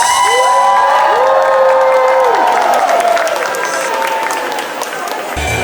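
A crowd at a Cancun resort show applauds and cheers for a performing group, with loud clapping, whoops and shouts blending into a roaring wash that slowly fades, mixed with voices.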